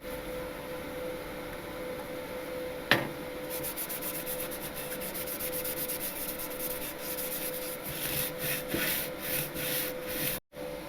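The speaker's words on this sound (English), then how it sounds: "I'm probably just gonna weld" A welder tacks a custom straight-pipe muffler on a turbo Honda Civic, giving a steady, close crackling hiss with no talk, turning into pulsing bursts toward the end before a brief cutoff.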